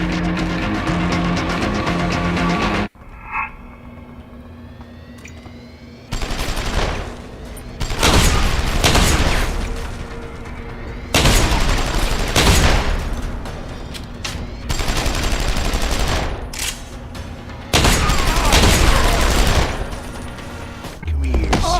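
Barrett's built-in arm gun in Deus Ex: Human Revolution fires in several long, loud, heavy bursts separated by short lulls, with booming impacts and a voice talking between them.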